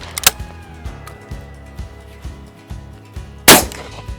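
A single loud, sharp shotgun blast while pigeon shooting, fired at a jackdaw, cracks out near the end against a steady engine-like hum and softer knocks.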